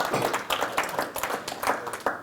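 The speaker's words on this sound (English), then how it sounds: "How about a round of applause for Don Salverda?" At an Optimist Club gathering, a modest audience claps for County Commissioner candidate Don Salverda, a short run of loose, uneven handclaps with distinct individual slaps, fairly close.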